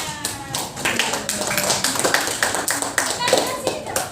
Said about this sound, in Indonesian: Tepuk tangan untuk teman-temannya.